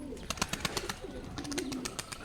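Pigeons at a pigeon farm coo in low, rolling calls amid a busy scatter of sharp clicks and wing or perch noises, close and continuous over the stretch.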